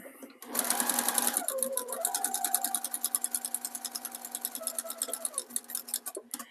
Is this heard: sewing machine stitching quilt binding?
yes